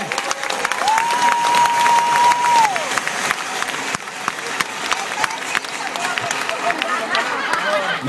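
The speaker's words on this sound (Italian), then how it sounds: "Fate un applauso forte!" Crowd clapping at a lively drag show night in San Pietro in Casale, a loud uneven patter of hands with chatter and shouts over it, plus a sustained whistle or tone near the start.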